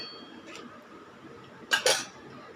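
Pieces of paneer dropped into a steel mixer jar in a home kitchen, two short clattering knocks close by in otherwise quiet surroundings.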